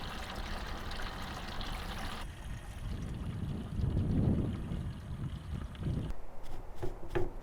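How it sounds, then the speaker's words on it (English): Water running over salmon fillets to rinse off a dry brine of salt and sugar, a faint continuous trickle and splash with some clattering near the end. "We wanna rinse all the salt and sugars off of there."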